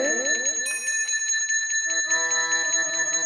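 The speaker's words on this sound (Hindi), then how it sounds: "घंटी टन टन आके बज गई।" A bell is struck several times in quick succession, and its bright, clear metallic ringing tones overlap and sustain. It sounds close and alone, with no voices.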